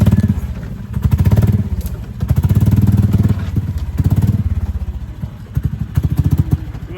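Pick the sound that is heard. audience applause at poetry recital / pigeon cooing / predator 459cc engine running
predator 459cc engine running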